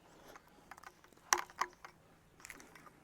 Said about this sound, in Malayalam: ഇനി നമുക്കിത് കീ ഉപയോഗിച്ച് ടൈറ്റ് ചെയ്ത് കൊടുക്കാവേ.